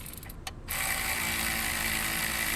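Ratchet with a 3/4 deep socket snugging a bolt while a passenger-side CV axle is installed on a 2007 PT Cruiser 2.4, heard as a few close clicks followed by a steady loud, continuous ratcheting rattle.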